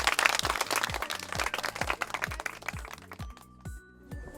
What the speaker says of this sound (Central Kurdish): هەر بژین یەک چەپڵە